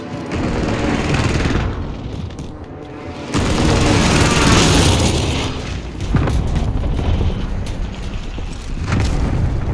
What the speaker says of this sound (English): Allied airstrike incoming.